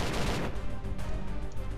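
Rapid gunfire rattles in a Roblox zeppelin battle, a burst of quick repeated shots in a close, loud, busy volley.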